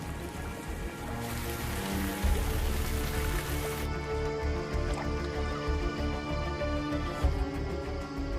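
Steady, dense monsoon rain in Sri Lanka's lowland plains hisses continuously, with a heavy wash of drops and low rumbling underneath, as if rain is pouring down nearby.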